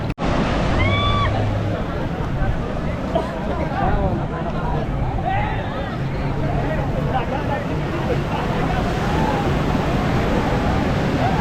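Sea waves washing onto Calangute Beach in Goa, a constant close surf roar and slosh under a voice talking throughout.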